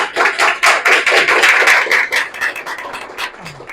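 Lively clapping from a gathered audience at a birthday celebration, crisp dense hand claps at first, thinning and growing more scattered toward the end.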